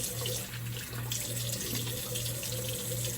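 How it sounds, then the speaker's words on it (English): Water runs steadily from a tap, a constant splashing rush with a faint repeating hum beneath it. "Wash this off here. Cold water."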